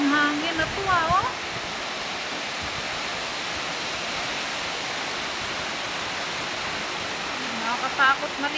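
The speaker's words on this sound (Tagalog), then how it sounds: "Sobrang lakas ng ulan, oh." Continuous heavy typhoon rain and gusting wind form a dense, loud hiss throughout, with short bursts of voices at the beginning and end.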